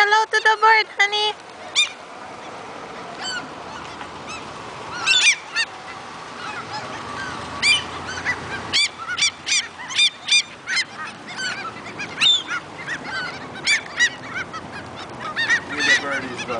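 Geese honk repeatedly in loud, irregular bursts while snapping up French fries thrown to them outdoors, with a parent's voice speaking to a child in between the calls.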